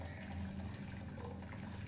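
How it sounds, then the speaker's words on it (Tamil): Lemon mint juice strained into a bowl, giving a steady, soft trickle of liquid that runs continuously for under two seconds, close by and moderately quiet, with no talking. "இப்போ ஒரு பவுலில் நம்ம வடிச்சு எடுத்துக்கலாம்"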